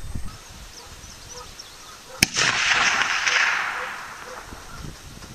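A single sharp rifle crack from a Winchester 94 lever-action in 30-30 firing a 150-grain flat-nose lead bullet outdoors at long range, followed by a broad hissing echo that rolls away and fades over a couple of seconds.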